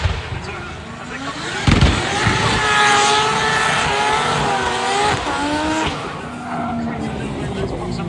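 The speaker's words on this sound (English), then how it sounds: "both of them make it just about through the roundabout as we hear that both of the cars" Two drift cars skid through a roundabout at Adam LZ Fest, with screeching tires, revving engines and bursts of exhaust pops, close and loud, while spectators talk over the action.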